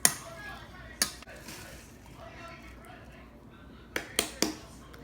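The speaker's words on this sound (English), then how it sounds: "I'm now going to toss everything together so that the flavors mix" Salad ingredients with tomatoes and olive oil tossed together in a bowl, giving a sharp clink at the start, another near one second, and a quick cluster of three near the end over a faint, steady background.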